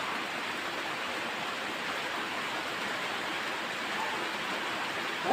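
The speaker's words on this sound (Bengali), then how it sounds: "এখানে এত বৃষ্টি হচ্ছে যে কয়েক মিনিটের মধ্যে পানি বেঁধে গেছে, অনেক পানি, ভারী ফুল ভারী বর্ষণ হচ্ছে" A heavy rain downpour roars steadily and evenly, a dense close wash of falling water with water pooling on the ground and no voices.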